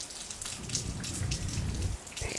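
Steady close rain pattering on a surface, a dense textured hiss with scattered droplet taps, heard alone without any voices.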